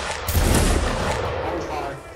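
A musket volley in the Napoleonic-era video game Mount and Blade: Napoleonic Wars erupts as one dense, loud roll of many overlapping shots that rumbles on and slowly fades.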